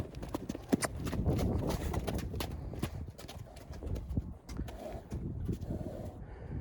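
Harnessed horses' hooves clop in an uneven rhythm close by, with creaking and rustling mixed in and a faint voice in the background.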